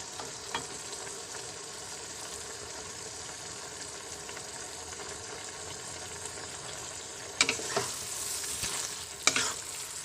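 Sautéed petola shoots and meatballs simmer in a pan, giving a steady low sizzle and bubble throughout, with a couple of brief louder stirring scrapes near the end; no voices.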